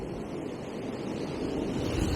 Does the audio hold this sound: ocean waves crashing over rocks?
yes